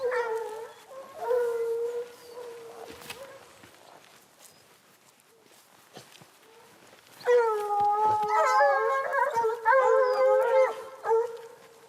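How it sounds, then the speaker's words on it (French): Hunting hounds baying in mountain terrain while tracking a hare, drawn-out howling cries in two bursts, a shorter one at the start and a longer, louder chorus of several dogs later, separated by quieter rustling. "c'est caractéristique des voies pas évidentes, c'est-à-dire que les chiens se récrient par moments, mais ils ont du mal à trouver les défilés"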